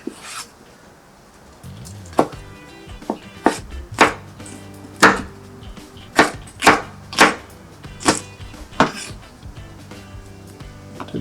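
Knife chopping capsicum on a board: a string of about a dozen crisp, separate thuds, irregularly spaced and close up, each a sharp click against a quiet background.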